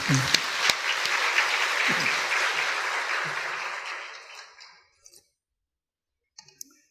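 A church congregation claps together for several seconds, a dense broad burst that slowly thins and fades out, followed by near silence with a couple of faint knocks.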